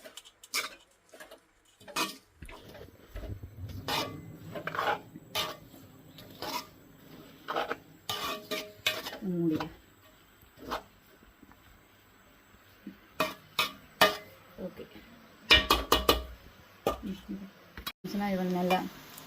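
A spoon knocks and scrapes against a metal cooking pot in an irregular string of sharp clinks while salt is mixed into home-cooked food, close up, with a person talking between the strokes.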